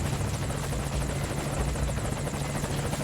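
A support helicopter from Metal Gear Solid V hovers close by, its rotor beating in a loud, fast, continuous chop with a low engine drone beneath and no speech.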